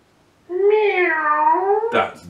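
A robotic toy cat gives a single drawn-out electronic meow lasting about a second and a half, close and clear, followed by a brief burst of noise at the end.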